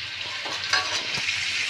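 Curry sautéing in hot oil in a pan gives a steady, dense sizzle and frying crackle, with a few soft stirring scrapes breaking through, close and continuous with no voices.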